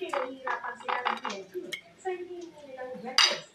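Pieces of fried eggplant for tortang talong are laid onto a plate with repeated close clinks and clatters of cutlery against dishes, while someone talks over the kitchen sounds.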